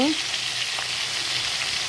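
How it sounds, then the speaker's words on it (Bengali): Vegetables frying in oil with ginger-garlic paste make a continuous close sizzle, even and bright throughout, with a brief spoon scrape near the start. "আদা রসুনের পেস্ট দিয়ে এটা আমি আরও কিছুক্ষণ বেজে নেব"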